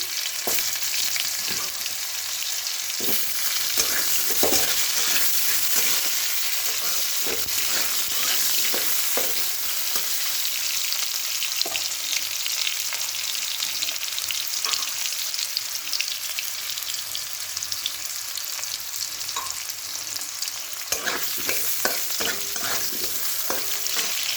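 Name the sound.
potatoes frying in a pan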